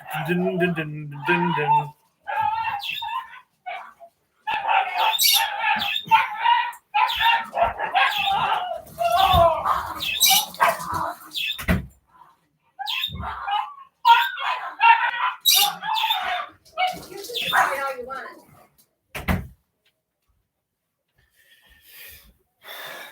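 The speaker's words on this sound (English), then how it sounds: "Pugs fighting like crazy dogs." Pugs fighting, with snorting, wheezy barks and growls in dense bursts, under people talking in a sports show setting, then a quieter tail.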